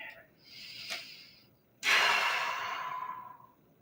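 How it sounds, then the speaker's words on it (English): A deep breath during a stretching workout, a soft inhale followed by a longer, louder exhale that trails off, close and alone. "Big breath in and out."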